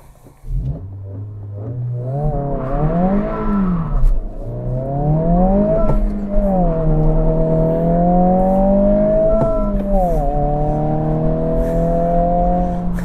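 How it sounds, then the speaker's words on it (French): A 2022 Honda Civic Si accelerating hard in sport mode on winter roads, its engine revving up through several gears with distinct upshifts, loud and close throughout with no talking. "maintenant, je vais tester l'accélération avec la Honda Civic SI"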